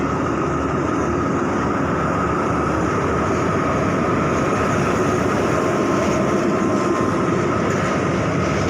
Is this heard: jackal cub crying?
no